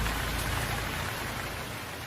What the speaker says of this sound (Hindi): पता नहीं माँ बारिश कब बंद होगी